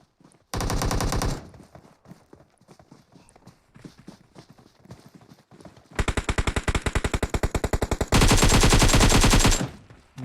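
Rapid automatic AK bursts ring out in PUBG Mobile, one short volley early, then two long sustained strings of fire near the end, loud and close with scattered footsteps between.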